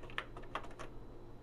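Keys clacking on a Tandy 1000 EX computer keyboard, a quick burst of four or five close, crisp strokes in the first second, then only a faint low hum for the rest, with no voices.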